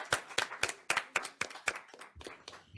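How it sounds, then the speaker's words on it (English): A small group at a public government meeting claps for a presenter, about a dozen distinct, fairly close hand claps in a loose, uneven rhythm that thins out toward the end. "the pause for applause"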